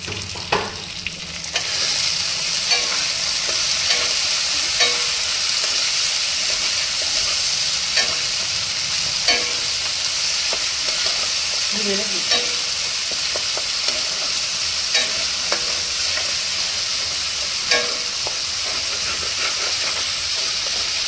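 Cumin and coriander powder frying in oil for a chickpea curry, a loud continuous close sizzle and hiss with occasional light scrapes of stirring throughout.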